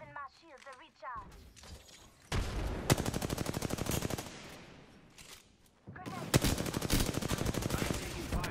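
Apex Legends gunfire erupts in two long automatic bursts of rapid, sharp shots. A brief voice is heard before the first burst, and a quieter stretch separates the two loud volleys.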